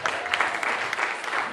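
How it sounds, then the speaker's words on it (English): Audience applause from a church crowd after a spoken-word performance, a soft, even wash of many hands clapping, steady and moderately distant, with no talking. "So please just give a clap offering for God"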